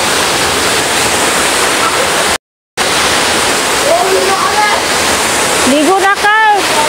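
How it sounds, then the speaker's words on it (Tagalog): Palsahingin Falls, a 90-foot waterfall in Cavite, roars as steady broadband white noise throughout, with a brief dropout midway and voices talking over the rush near the end. "Ito ang Parsahingin Falls guys, 90 talampakan."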